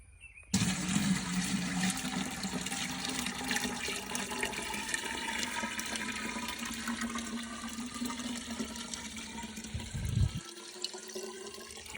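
Water pours steadily into a home worm farm, a continuous close splashing and trickling rush that runs for about ten seconds before cutting off, with no voices.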